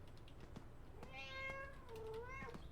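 A cat meows once, a drawn-out, rising and falling cry over quiet background clicks, in the Five Nights at Freddy's: Into the Pit video game.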